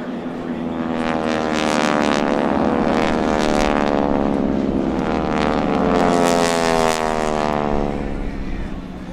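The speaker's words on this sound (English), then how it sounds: "The two FAC aircraft are now inbound and are looking over the area for" Skytypers propeller airplanes flying over a beach airshow, a loud droning engine roar that rises and falls as the aircraft pass, with wind buffeting and an announcer talking over a loudspeaker.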